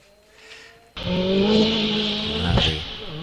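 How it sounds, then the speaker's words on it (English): A turbocharged four-wheel-drive Audi A3 at the Wiscombe Park hillclimb bursts into a loud, close engine roar after a quiet moment, climbing through revs with a brief gear-change flutter. "Audi A3 turbocharged four-wheel drive."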